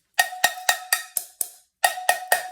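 Eight close taps of a wooden chopstick on the other end of an old coffee tin ring with a clear metallic tone and a brief decay, loosely rhythmic with a short pause near the end and no voices.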